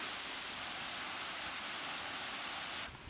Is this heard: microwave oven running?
no